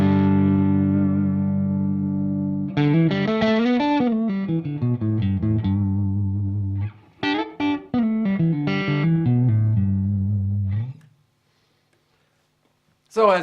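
Clean electric guitar through an amp with no overdrive pedal engaged, ringing notes and chords played alone in a sustained, slightly gritty tone, with a decaying opening chord, a pause of silence near the end and a final strum.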